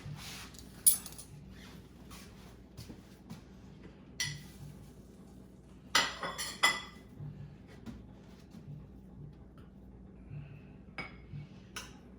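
A knife and fork clink against dishes at a meal of shrimp and mackerel with seasoned rice. Sharp metallic taps come singly and in short clusters over a quiet background, with a louder burst of clinks midway.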